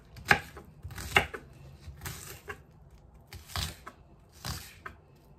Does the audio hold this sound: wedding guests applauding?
no